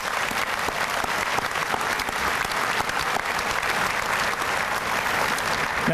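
Sustained audience applause at a spring graduation ceremony, a dense and steady wash of many hands clapping at close range, continuing evenly throughout without talk.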